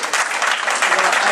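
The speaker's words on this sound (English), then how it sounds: "keep that applause going." Audience applause at a community presentation on the Latino population, a dense, steady wash of many hands clapping filling the whole moment without a break.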